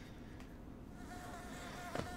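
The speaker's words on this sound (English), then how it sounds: "More buzzing." Insects buzz in the video game Hollow Knight, a steady thin whine that holds evenly over the moment, blended with low game ambience and music, with no talking.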